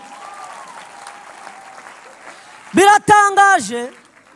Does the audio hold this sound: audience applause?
yes